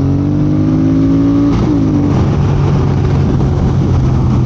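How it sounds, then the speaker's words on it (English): A truck on the road accelerating past a motorcycle, its engine rising in pitch then settling into a loud, steady roar masked by constant wind rush from the ride. "I swear that truck sped up."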